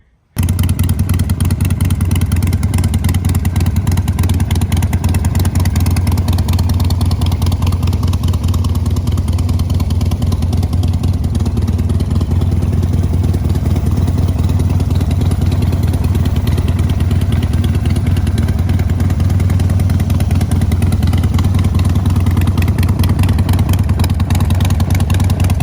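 A motorcycle engine runs steadily and loudly at a close, even idle for the whole stretch, with no voices.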